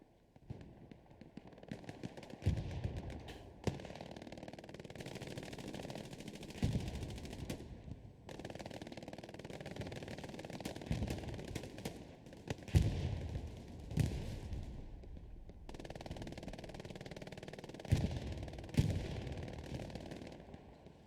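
Gunfire and artillery in the video game Hell Let Loose: repeated bursts of rifle and machine-gun fire crackle over a steady battlefield rumble, with several heavier booms scattered through, fairly distant and quiet.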